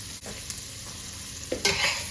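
Onions fry in a pan with a continuous sizzle, broken by a few scraping stirs and a louder burst of hissing toward the end.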